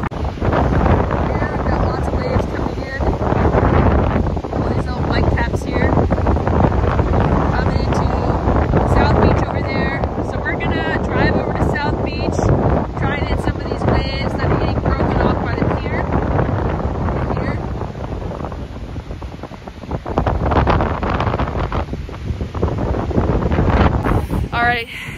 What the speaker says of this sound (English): It's a very windy day out today